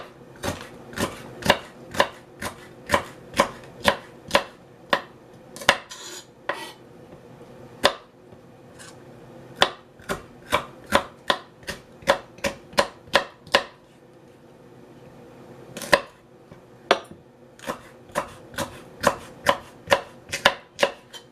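A knife chops sweet peppers on a board in steady, crisp strokes, close and clear, in runs of rapid cuts separated by short pauses.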